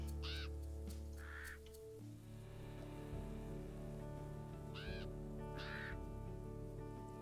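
Crows cawing at a carcass in a wolf video game, several harsh calls in pairs over a steady rain-like ambient bed, no talk.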